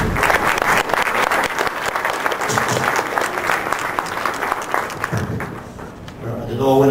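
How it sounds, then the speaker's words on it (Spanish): Applause for a presenter at a scientific talk on oocyte maturation in Lima, a dense steady clapping from a seated audience that keeps going for several seconds and then tapers away. "Aplauso para..."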